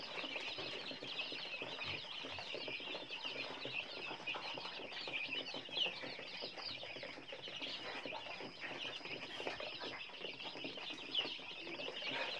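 Striped-head Lai fighting chickens kept free-range cluck and flutter in a continuous faint flock chatter, with scattered calls and wing rustles spread through the whole stretch and no one speaking.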